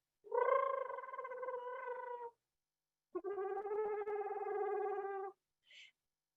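A human voice imitates the gurgling trill of an eastern screech owl, two sustained quavering throaty notes close to the microphone, each about two seconds long with a short gap between, then a brief faint squeak.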